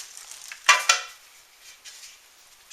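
Pieces of homemade restaurant-style garlic bread set down on a cooking pan, giving two close, bright clatters in quick succession followed by a few faint light knocks.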